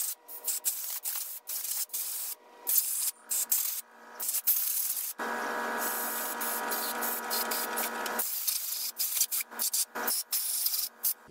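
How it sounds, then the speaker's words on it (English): Compressed air from an air compressor blasts through disassembled Farmall H carburetor parts in a workshop: short sputtering hisses, then one steady roaring blast lasting about three seconds, followed by more brief spurts, with no talking. "air compressor fired up. We're going to blow out all those parts and pieces"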